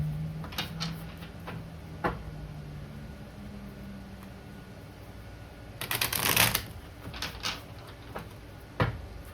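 Tarot cards being shuffled in a quiet room, with soft riffling bursts scattered through and one louder, denser flurry of card noise near the end; no one speaks.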